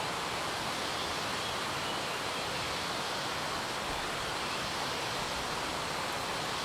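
A jungle river flows in a steady, even rush of water that stays constant and fairly close throughout, with no voices.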